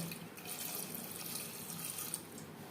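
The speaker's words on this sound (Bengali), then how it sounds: "দিয়ে দেব পরিমাণ মতো জল" Water runs steadily from a tap into a cooking pot of washed chickpeas, a continuous close splashing flow with no voices.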